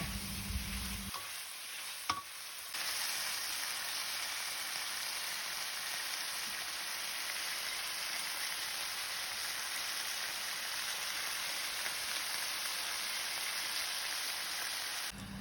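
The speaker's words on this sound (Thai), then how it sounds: "นำมาผัดกุรีกุรีให้มันเข้ากันนะคะ" Red curry paste stir-fried in a pan gives a continuous close, bright sizzle with a faint scrape near the start, running steadily throughout.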